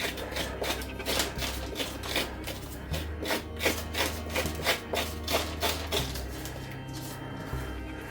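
A handheld scoop scrapes out the insides of a carved Halloween pumpkin in a steady run of rhythmic, wet rasping strokes, close by, over a low background hum.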